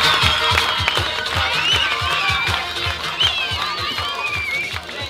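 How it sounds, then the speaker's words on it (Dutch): Audience applauding at the closing presentation of a children's musical, rhythmic clapping from a sizable crowd with cheers and a hum of voices mixed in, fairly loud and sustained. "Dus eigenlijk nog een groter applaus."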